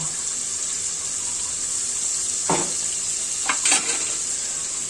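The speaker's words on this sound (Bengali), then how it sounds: "মশলাটা ভেজে নিব আমি দেখুন অল্প করে কাঁচামরিচ দিয়ে দিলাম" Spices with green chili and turmeric fry in hot oil, a steady close hiss with a few brief louder spatters near the end, no voices.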